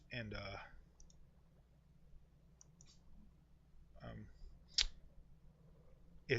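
Mouse clicks in a World of Warcraft guild menu: a few crisp, isolated clicks sound close and quiet, spaced irregularly, with a person speaking briefly at the start and again before the final click.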